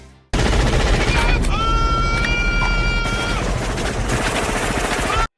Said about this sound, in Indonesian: langsung nembakin ribuan peluru ke arah hutan